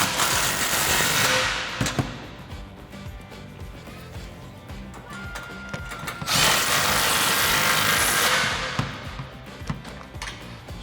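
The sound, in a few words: 3/8 impact gun tightening 15 mm sway bar bolts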